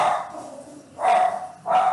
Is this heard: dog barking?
yes